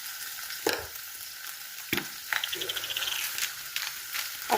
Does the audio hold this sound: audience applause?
no